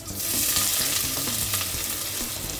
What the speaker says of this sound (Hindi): अब सबसे पहले इन मसालों को थोड़ा सा टोस्ट कर लिया जाएगा, यानी कि हल्का सा भून लिया जाएगा